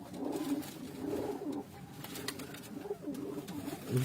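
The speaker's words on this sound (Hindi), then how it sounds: "ये सारे ब्रीडर कबूतर हैं।" Several breeder pigeons coo softly together in low, rolling murmurs, a steady flock chorus with faint background rustle, no talking.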